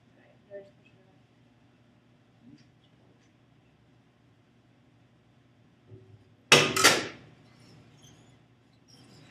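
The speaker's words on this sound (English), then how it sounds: "And then we release the pendulum." An Izod impact tester's pendulum is released and strikes a test specimen, giving a single sharp, loud crack with a brief clattering rebound against an otherwise quiet room with faint scattered knocks.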